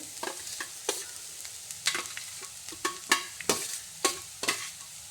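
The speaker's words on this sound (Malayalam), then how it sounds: "അതിലേക്ക് നമുക്കിനി അരിഞ്ഞു വച്ചിരിക്കുന്ന താള് ഇട്ട് കൊടുക്കാം ഇലയും തണ്ടും എല്ലാം കൂടിയാണ് ഞാൻ ഇതിലേക്ക് ഇട്ട് കൊടുക്കുന്നത്" Chopped taro leaves and stems stir-fried in a pan, with repeated sharp scrapes and taps of a spoon against metal in an irregular rhythm over a light sizzle, close and clear, no talking.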